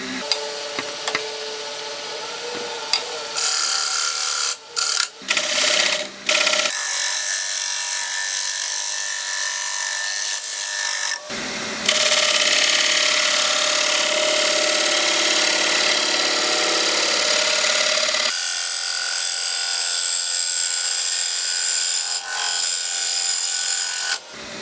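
Wood lathe turning an Australian hardwood platter with a 16mm bowl gouge, loud continuous tearing cuts that start and stop in long passes, with brief pauses between bursts and no talk.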